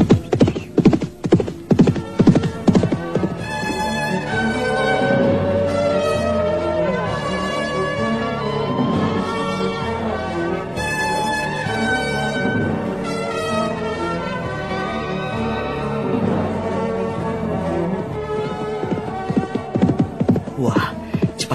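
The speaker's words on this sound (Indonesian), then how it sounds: "Wah, cepat sekali kuda ini lari." Galloping horse hooves clip-clopping in an Indonesian folk tale, a steady rhythmic beat that runs under a swelling music score, fairly loud and continuous.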